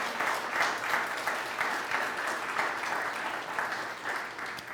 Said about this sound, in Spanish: Dan un aplauso al Señor.